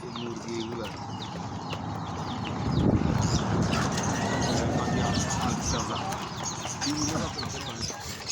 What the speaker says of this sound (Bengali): মুরগি এগুলা।